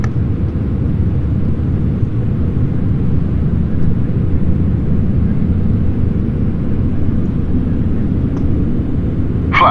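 Boeing 747 taking off and climbing in Microsoft Flight Simulator X, a loud steady jet engine roar with a broad rumbling hiss that holds constant throughout, with no talk over it.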